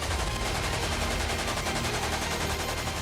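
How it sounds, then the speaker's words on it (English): Continuous rapid machine gun fire, dense and loud, bursts blending into a relentless crackling roar throughout. "The constant sound of gunfire,"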